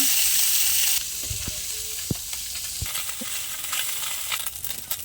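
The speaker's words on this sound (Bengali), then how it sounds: "দিলাম তেলের মধ্যে ভাজার জন্য।" Small fish fry in hot oil with a bright, loud sizzle that dips after the first second, then settles into a steadier hiss broken by scattered spatter crackles and a few utensil knocks.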